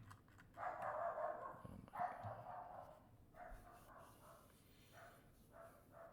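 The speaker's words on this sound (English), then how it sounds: "Dog started barking" A dog barks several times at mid distance in a quiet room, the barks clustered in a loud burst early on and then coming in softer, scattered yips.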